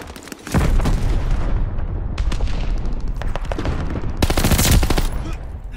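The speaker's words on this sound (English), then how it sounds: "They in the back shooting. Under fire." Dense gunfire in a Call of Duty match on the Champion Hill mode, rapid automatic bursts and heavy booms layered continuously and loudly, with two especially intense volleys near the start and end.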